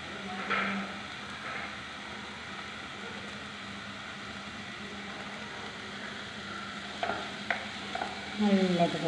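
Curry leaves and a spiced mixture sizzle steadily in a pan while a spoon stirs them, with a few sharper scraping clicks near the end; no voices.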